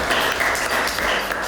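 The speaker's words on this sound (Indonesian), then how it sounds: "tepuk tangan buat Yusuf" Applause at an Indonesian lecturer certification session, a short, steady burst of clapping from a room of listeners. It sounds fairly close and fills the moment without a break, with no talk over it.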